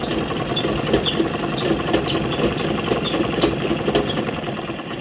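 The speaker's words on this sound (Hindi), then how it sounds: "इसके ऊपर दोबारा से हम पूरा नीचे तक सिलाई लगाएंगे।" A sewing machine stitches a salwar in a steady, fast, continuous mechanical whir with a rapid needle rhythm, close and loud throughout.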